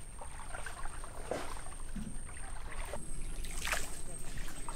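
A wooden country boat gliding along a canal near the floating guava market at Bhimruli, Barisal, with a steady wash of water and faint splashes beneath a constant engine-like drone and occasional distant voices.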